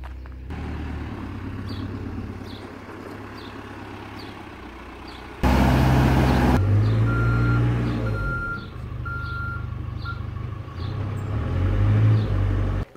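A truck or excavator at a work site reverses with a steady series of evenly spaced beeps over a rumbling diesel engine, which surges louder midway as the machine moves close by.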